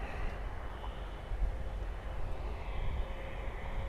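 An Avianca Cargo jet in green livery passes at Miami Airport, a low, steady engine roar that stays close and fairly even throughout.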